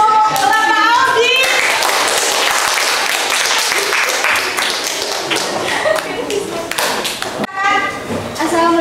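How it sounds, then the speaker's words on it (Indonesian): Classroom applause for a presenter, steady clapping from a group of students with some voices and chatter mixed in throughout, fading briefly near the end before talk resumes. "silakan kita kasih tepuk tangan untuk Bapak Audi."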